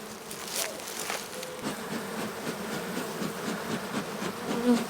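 Honey bees buzz densely and continuously at close range while a hive is opened for a colony inspection in April in Minnesota, with a steady hum and no talking.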